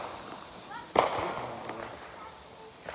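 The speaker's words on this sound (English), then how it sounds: "I thought it's fireworks." A small firework goes off with one sharp pop near the middle, followed by fizzing crackles that fade. Faint whistles and a few softer pops come around it, under quiet outdoor ambience.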